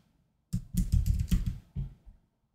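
Rapid keystrokes clatter on a computer keyboard, a close burst of about two seconds of quick clicks typing a single word, with no talking.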